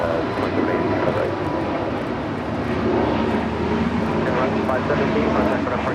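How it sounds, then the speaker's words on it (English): A Viva Aerobus Airbus A320neo jet departs Los Angeles International Airport, its engine roar a loud, steady broadband rumble that persists throughout while a voice talks over it. "This is Viva Aerobus 517 departing to Guadalajara on an A320neo."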